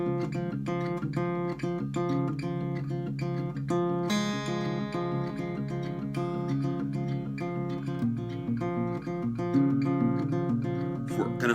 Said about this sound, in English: If you were just to focus on the slapping